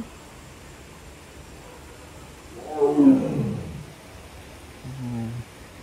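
After a quiet stretch, a tiger at Singapore Zoo lets out one strong, rumbling roar that fades, followed a moment later by a shorter, lower growl.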